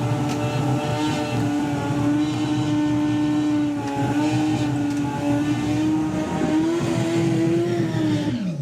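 A Suzuki Hayabusa-based super street drag bike on street tyres, without wheelie bars, makes a sustained, loud engine howl on the drag strip, holding a steady pitch before climbing briefly near the end.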